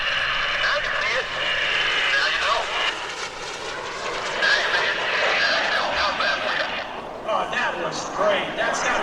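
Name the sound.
FLS Microjet aircraft flying past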